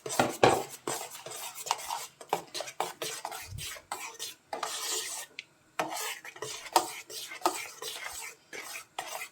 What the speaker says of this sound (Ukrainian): щоб не утворилися грудочки швиденько розмішуємо ретельно